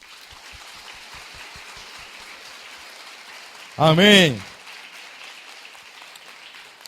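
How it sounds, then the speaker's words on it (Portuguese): A church congregation claps in a soft, steady wash of applause, briefly covered by a single loud spoken word from a preacher. "Eu quero que você aplaude o Senhor Jesus bem forte agora."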